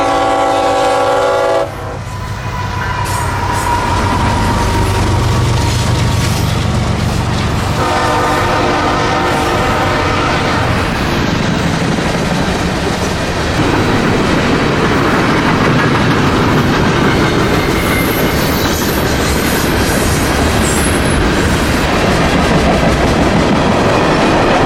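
A train pulls past at close range, opening with loud blasts of its horn and then a steady heavy rumble with wheel clatter that stays loud to the end, with no voices.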